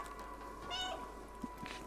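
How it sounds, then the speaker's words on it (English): A single short, fairly faint cat meow from the video game Stray rises over a quiet background hum, followed by a couple of soft clicks. "she kept on spamming the little meow buttons"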